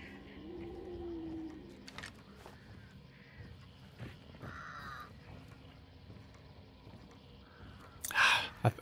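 Crows cawing in Hunt: Showdown, a loud, close burst of harsh caws near the end after quiet ambient game noise with a few fainter calls.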